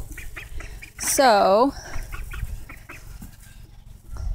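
Homestead ducks and chickens call in a yard, with one loud, drawn-out quacking burst near the middle and softer clucks and chirps scattered around it, while a person speaks briefly.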